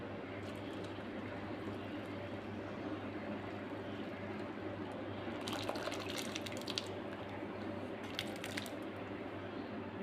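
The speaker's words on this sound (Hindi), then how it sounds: "तो अपना जो छेना हमने तैयार किया है वो हम इसमें छान लेते हैं।" Fresh chhena strained through cotton cloth for kalakand, with soft squishing and liquid draining and trickling throughout, faint and close, plus brief wetter squelches midway and near the end.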